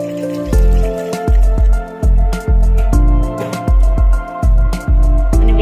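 Water poured into a pressure cooker holding sambar mixture with asafoetida, heard as a close, loud series of about nine splashy pours and drips at a steady rhythm, with no voices.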